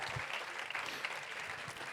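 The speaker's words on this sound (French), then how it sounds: "on peut les applaudir bien fort" Dense, steady applause from a studio audience of a French blind-date show, a faint, even wash of many hands with no voices on top.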